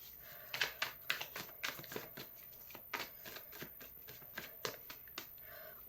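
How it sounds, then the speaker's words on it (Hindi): Tarot cards being shuffled and drawn by hand, a steady stream of soft riffling, flicking and slapping from the deck, close and fairly quiet, with no talking. "फर्स्ट ऑफ ऑल मैं आप लोगों के लिए कार्ड्स निकाल लेती हूँ।"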